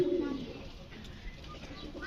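Satin pigeons at a pigeon farm give a faint, low coo at the start, followed by quiet murmuring coos against a soft background.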